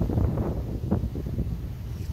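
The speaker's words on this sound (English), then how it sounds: "It can be very windy on top of the ferry." Gusty wind buffeting the microphone in low, rough bursts on the top deck of a ferry in London, loud and close, with no voices.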